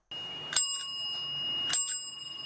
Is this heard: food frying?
no